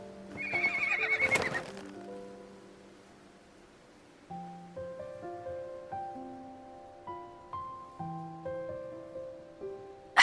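A horse in a video game whinnies loudly near the start, followed by a quiet pause and then soft rhythmic clip-clop hoofbeats under light musical tones.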